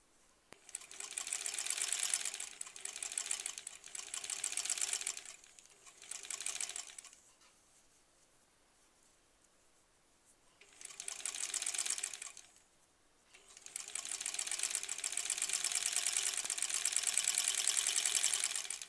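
A sewing machine stitches quilt border pieces for a granny squares quilt in bursts of rapid, steady whirring, first two runs, a quiet pause, then a short run and a long final stretch.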